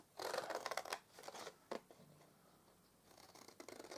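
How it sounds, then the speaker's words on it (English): Scissors snipping through paper while a gift hamper box is cut out, several crisp bursts of cutting close by, then a quieter pause before more snips. "cut away those 2, and then cut away the end one"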